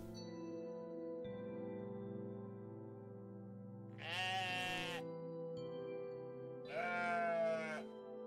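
A sheep in the game OneShot bleats twice, each cry about a second long and wavering, over a steady electronic music backdrop.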